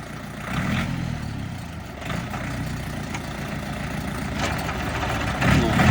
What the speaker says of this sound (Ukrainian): Запускай фрезу. Дай газу. Давай третю і газу.